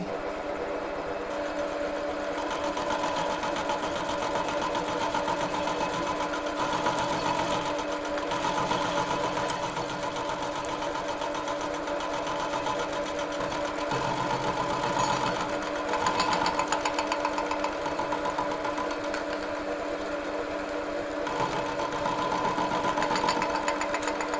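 Milling a part for the cover of a Zubr walk-behind tractor tiller produces a continuous rattling, buzzing machine drone that holds steady for the whole stretch, with small surges in intensity.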